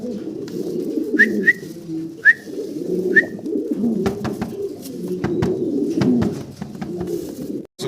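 Pigeons coo in low, throaty murmurs close by, with a few short whistling notes and occasional clicks and taps.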